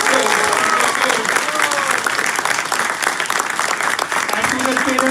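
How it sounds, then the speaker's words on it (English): An audience at a Sunday love feast program claps loudly for children in costume, a dense sustained round of applause with voices calling out and talking underneath. "Give a big round of applause to all the students."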